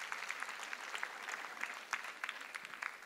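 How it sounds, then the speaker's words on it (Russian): An audience at a church women's seminar applauds steadily, a dense patter of claps sustained from start to finish at moderate distance with no talking over it. "Давайте поаплодируем братьям."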